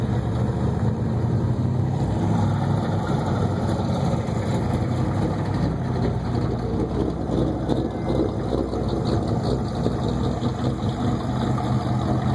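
A Chevrolet Corvette idles at a drag strip reunion car show, a steady deep engine rumble heard from nearby, continuous and fairly loud over outdoor ambience.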